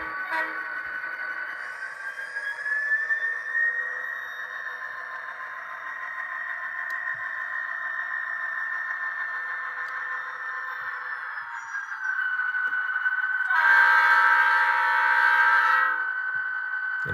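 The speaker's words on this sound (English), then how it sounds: "Let's give you one more blast of the horn, and then we will shut this locomotive off." A ScaleTrains DM&E SD40-2 model locomotive sounds its horn in long, loud sustained blasts, steady and close, with a brief stronger surge near the end and no talk.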